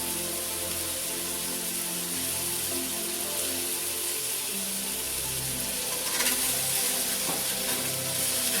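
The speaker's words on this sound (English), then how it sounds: "So now I've got 2 tablespoons of butter I want to throw in here so we can cook our veggies. Give that a chance to melt a little bit." Two tablespoons of butter melt in a pan before vegetables go in for shepherd's pie, giving a steady, dense, rain-like sizzle up close throughout, with no one speaking.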